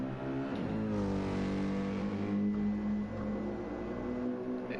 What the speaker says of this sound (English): He is short shifting heavily to try to save that fuel.